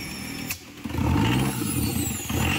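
A car engine catches and starts after carb cleaner is sprayed into the intake, then settles into a steady, loud running rumble close by, with a brief dip just after the first burst.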